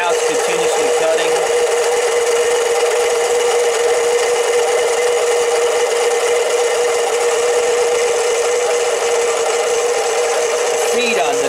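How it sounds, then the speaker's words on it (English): A Harbor Freight 7x10 mini lathe cuts continuously along a 304 stainless steel bolt, with a loud, unbroken motor whine and grinding rattle that holds steady from start to finish. "Now it's continuously cutting."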